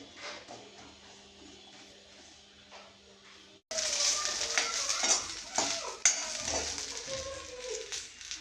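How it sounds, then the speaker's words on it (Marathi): A low hum fades out, then a pan suddenly bursts into loud sizzling as chilies roast, with clattering and scraping as they are stirred. "थोड्या त्याला भाजून घ्यायच्या मिरच्या थोड्या मी भाजून घेते"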